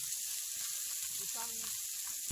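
Sea shells sautéing in a pan give a steady, dense sizzle and hiss for the whole stretch, with a brief voice-like murmur rising partway through.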